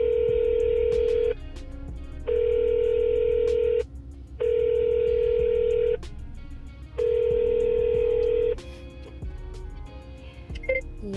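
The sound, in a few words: telephone call ringing out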